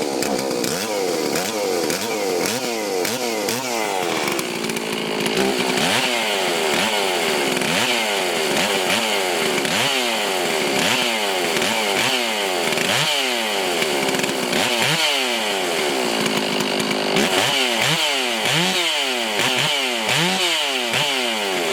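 A Stihl chainsaw, either an 046 Magnum or an MS500i, running loudly close by, its engine repeatedly revving up and falling back in a steady rhythmic pattern throughout with no talking.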